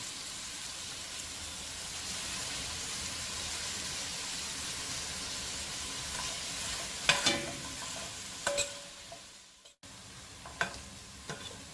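Onions with salt sautéing in a pan for Kerala chicken roast, sizzling steadily and close, with a few sharp spatula stirs and scrapes near the end and no talk.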